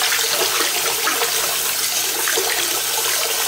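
Soapy water sloshes and splashes steadily as a length of paracord is washed and scrubbed in it, a close, continuous watery churn with no talking.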